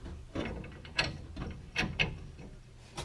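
A hand ratchet clicks in quick, uneven bursts while backing out a shackle bolt on an LML-L5P truck's rear leaf-spring hanger, close and moderately quiet with small metallic knocks mixed in.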